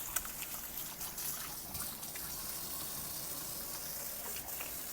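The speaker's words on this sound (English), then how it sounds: "Washing my hands." Tap water running while hands are washed in a home kitchen, a steady soft trickle and hiss with faint splashes, fairly quiet and continuous.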